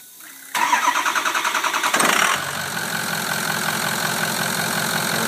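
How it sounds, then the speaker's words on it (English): A Ford diesel truck engine cranks with a rapid rhythmic chugging for about two seconds, then fires and settles into a steady, loud idle. "So go ahead and start the truck up."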